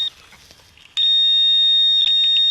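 A handheld metal detecting pinpointer sounds on a buried target: a few soft chirps, then a sudden loud, continuous high-pitched tone that holds steady, briefly wavering as the probe shifts, with no talking.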